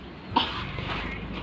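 A single sharp cough rises over a steady background hiss, then the low murmur continues.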